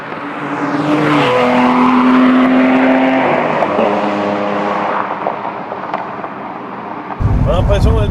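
A Porsche 996 GT Club Sport heard from inside the cabin, its engine rising through the revs in a loud rush, pitch climbing and dropping with gear changes before a sharp burst of noise near the end.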